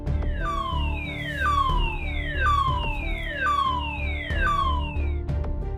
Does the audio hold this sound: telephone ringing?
no